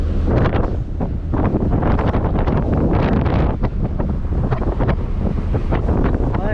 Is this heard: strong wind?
yes